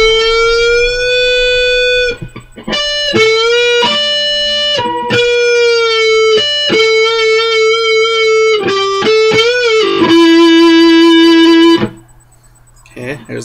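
A lead electric guitar plays the first lick of a solo, with sustained bright notes, bends and quick note changes in short phrases, loud and distorted, before dropping out near the end.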